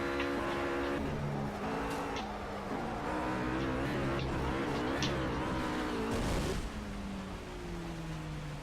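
Race car lapping a track in the racing game Project Cars, the engine droning continuously at moderate level, pitch rising and falling through gear changes and braking, with no talking.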